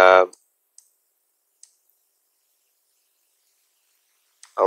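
Sharp computer mouse clicks while working in Photoshop, a few isolated quiet clicks spaced across a pause, with a voice talking briefly at the start and end.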